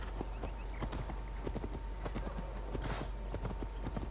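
Horse hooves clip-clopping steadily in the video game Assassin's Creed Valhalla, a walking rhythm of close, even hoofbeats over a constant ambient background, with a faint whinny.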